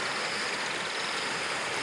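The Rio Salgado runs high and fast toward the Castanhão dam, a loud, steady broadband rush of churning river water with no break and no voices.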